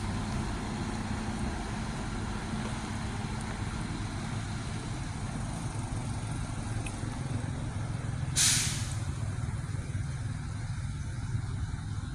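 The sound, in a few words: bus air brakes hissing while entering Pekanbaru bus terminal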